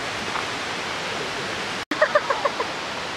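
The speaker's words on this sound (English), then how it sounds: "I've just been standing under like some huge waterfall" A huge waterfall roars as a steady, loud wash of broadband noise, continuous and close, with a brief dropout and a few faint clicks near the end.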